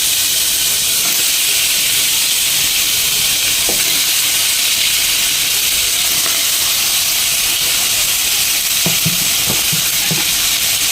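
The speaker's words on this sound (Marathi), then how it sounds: "आणि आता घालूया याच्यामध्ये आपलं चिकन." Chicken pieces hit hot oil with ginger-garlic paste and turmeric, giving a loud, continuous hissing sizzle with occasional stirring clatter from the pan, close and steady throughout.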